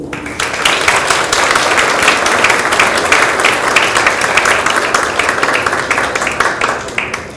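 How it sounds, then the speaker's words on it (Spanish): A book launch audience gives the author an ovation: dense, loud, sustained clapping from a full room, steady for several seconds before tapering off at the end. "Muy merecida la ovación"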